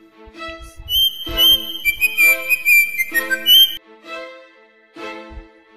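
Someone whistles loud, sustained high notes in two long phrases, close and prominent, with a tuneful background of music running underneath.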